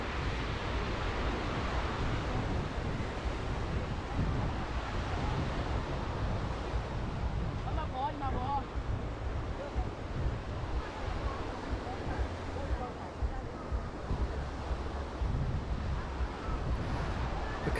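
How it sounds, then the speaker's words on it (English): Surf rolling onto a beach in Thailand, a steady broadband wash of waves with wind buffeting the microphone, continuous and fairly loud throughout with no clear breaks between swells. "Okay, here we are on the beach."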